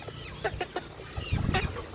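A chicken recovering after medicine treatment, its feathers still regrowing, gives a few short, close clucks in quick succession in a quiet setting.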